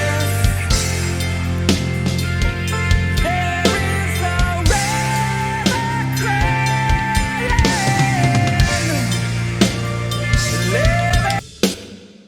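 A full drum cover of a song, with live kit played over the drumless track and mixed in Reaper with FabFilter plugins. Dense rock band music with crisp cymbals and drum hits runs steadily and stops abruptly near the end.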